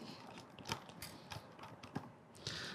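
Screws being driven through holes to attach the outside lever of a dormakaba Saffire LX-I or EVO LZ-I lock, faint mechanical clicks and creaks at an irregular pace, close and quiet, with no talk.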